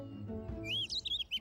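A tiny cartoon bird in Paw Patrol lets out a quick run of high, bright chirps and tweets, close and clear, following a brief low rumble at the start.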